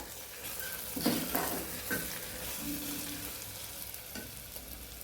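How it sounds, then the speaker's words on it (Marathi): A spoon scrapes and stirs a moong mixture with turmeric in a hot pan, a soft sizzle underneath and a few distinct clinks of utensil against metal, close but fairly quiet, no speech. "थोडी हळद घेतलेली आहे एक चमचा ती ह्याच्यामध्ये आपल्याला टाकून घ्यायची आणि हे छान हलवून घ्यायचे बघा"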